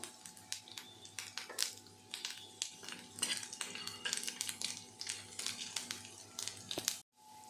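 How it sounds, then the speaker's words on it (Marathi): Chopped vegetables hit a hot pan of softened ingredients while cooking sweet corn soup, giving a dense run of close clinks, taps and crackling scrapes with a steady low hum underneath. "हे हलकंच आपण परतून घेऊया आता याच्यामध्ये आपण भाज्या टाकूया"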